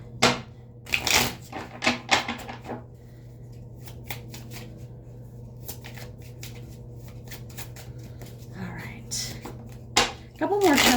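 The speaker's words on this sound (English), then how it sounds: "couple more shuffles. I'm going to cut the deck with my left hand" A deck of playing cards is shuffled in several quick riffling bursts at close range, with soft handling and rustling between shuffles and a faint voice in the background.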